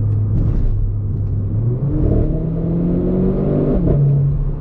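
A Renault Sport car engine hums and revs with rising and falling tones on a hot day, while sharp pops and crackles from the exhaust break through close by.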